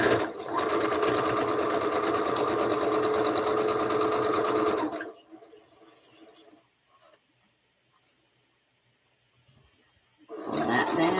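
A sewing machine runs steadily at speed for about five seconds while piecing an All Roads quilt, then stops to near silence before starting up again briefly at the end.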